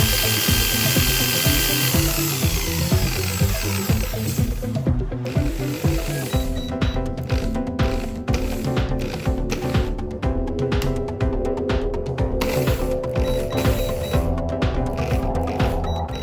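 A washing machine motor is spun as a 220 V generator, giving a close, steady mechanical whir with a fast rattling, clicking texture throughout. There is no talking.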